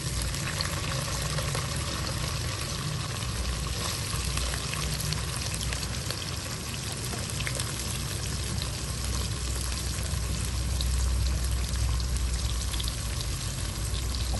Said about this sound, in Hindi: प्याजों को जो है हम गोल्डन ब्राउन होने तक जो है फ्राई कर लेंगे।